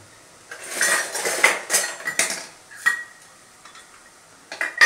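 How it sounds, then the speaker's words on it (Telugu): Chili powder being stirred into a mixture in a metal vessel: a close spoon scraping and clattering in irregular bursts, with brief pauses between strokes. "ఒకసారి మొత్తం కలబెట్టుకుందామండి"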